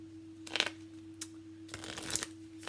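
Tarot cards are shuffled close by in a few short, soft riffling bursts over a constant low electrical hum.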